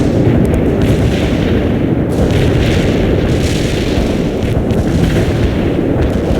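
An artillery barrage in a war video game, heard as a loud, dense, continuous rumble of overlapping booms and blasts with no pause throughout.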